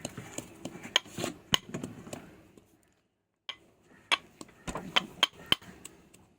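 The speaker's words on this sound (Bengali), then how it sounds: "এই হামানদিস্তার মধ্যে এখন লঙ্কাটাকে পুরো কুচি কুচি করে এখন চেতে নিচ্ছে পুরো" A pestle pounds chillies in a mortar, producing sharp, irregular knocks and clinks. The strikes come in two clusters separated by a short silent pause.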